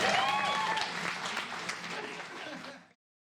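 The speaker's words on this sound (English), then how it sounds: "In our applause for Lucky, he's very shy." Applause from a small audience for a shy musician at a hosted street performance show, brisk and fairly close, with a voice briefly over it, fading out near the end.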